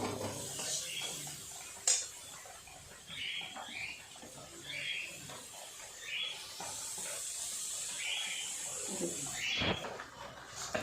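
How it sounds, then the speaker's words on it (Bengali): A spoon stirs Bengali rohu fish curry spice paste loosened with water in a pan, giving quiet intermittent scrapes and clinks over a soft, constant sizzling hiss. "তাই একটু জল দিয়ে ভালো করে নেড়ে নেড়ে মশলাটা কষিয়ে নেব"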